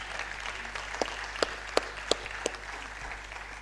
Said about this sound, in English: Please keep the applause going for her.